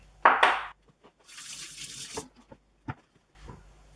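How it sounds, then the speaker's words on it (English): Tap water runs into a sink while hands are washed during preparation of salmon and mango ceviche tacos, with splashy bursts, a steady stream, then short drips and splashes at close range, no talking. "there's a lot of washing your hands involved"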